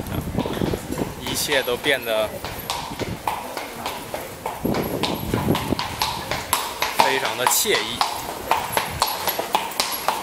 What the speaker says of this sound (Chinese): 听着这个达达的马蹄声，